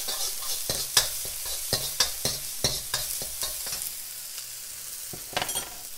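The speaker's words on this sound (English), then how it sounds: "and give it a stir" Garlic and onions frying in hot oil in a pan crackle continuously as a utensil scrapes and knocks in a quick, irregular stirring rhythm, close and clear.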